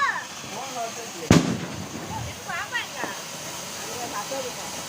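Firecrackers at a family Diwali celebration at home: one sharp, loud bang over a steady hiss and scattered crackles, with people talking nearby throughout.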